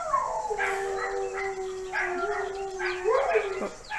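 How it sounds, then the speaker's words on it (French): Neighbourhood dogs bark and howl in the distance: drawn-out, wavering howls layered with yips, fairly clear over a steady background hiss, with a faint voice present. "je pense que vous devez entendre un peu les chiens du quartier"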